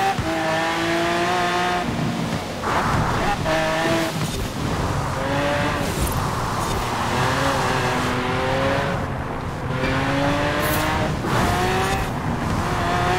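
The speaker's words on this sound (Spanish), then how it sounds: "Como zumba el coche, tío." A Honda Quadra V-TECH car drives in Forza Horizon 4, its engine buzzing loudly and continuously with rising and falling revs as it shifts through gears, alongside occasional tire squeal, with no talk over it.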